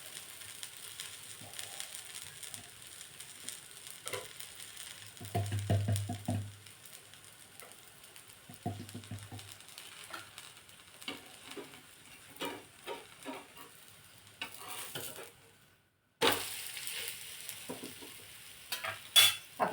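Cucumber thalipeeth, a Marathi flatbread, sizzles in oil on a pan, a steady close frying hiss broken by occasional clinks and scrapes of a utensil, with no talking.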